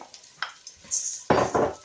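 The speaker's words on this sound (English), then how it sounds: "once the garlic's been frying off for about a minute, you're ready to add your rice" Rice poured into a pan where garlic and onion are frying in oil, giving a short, quiet sizzle and stir after a few soft kitchen clicks.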